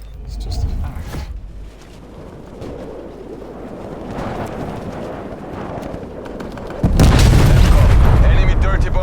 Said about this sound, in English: Enemy dirty bomb detonation detected.